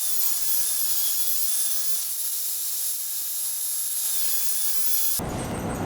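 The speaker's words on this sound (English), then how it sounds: "I'm just gonna do what I can to straighten it out on the belt sander" A belt sander straightening the jigsaw-cut edge of a wooden piece, producing a loud, steady high-pitched whir and abrasive hiss up close that cuts off abruptly near the end into a different, rougher noise.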